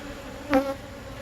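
Honey bees buzzing near an open hive during an inspection, a single bee drone swelling briefly close by over a steady low background hum.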